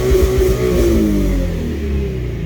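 A tuned car engine, running on an EcuTek tune with a stock 7500 rpm redline, revs hard and holds a loud, steady drone near the limit, close up with no talk.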